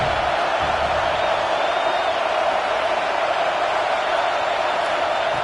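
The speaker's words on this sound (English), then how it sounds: "Third down play in the red zone, and this crowd is at fever pitch." A packed football stadium crowd at a Texas Longhorns game roars steadily through a third-down play in the red zone, a dense wall of cheering and shouting that holds at a constant loud level.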